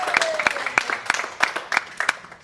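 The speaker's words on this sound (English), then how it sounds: "how about a round of applause for all the peer work that Richard's undertaken." Audience applause at a festival session, a steady patter of many hands with sharper individual claps standing out, moderately close, with faint voices underneath.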